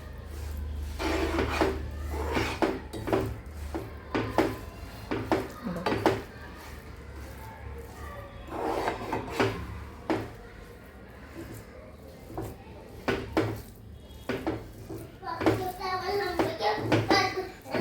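A spoon stirs and scrapes a sesame seed and jaggery ladoo mixture in a metal pan, making repeated clinks and scrapes in an uneven rhythm, close and fairly clear, with a voice speaking at times over it.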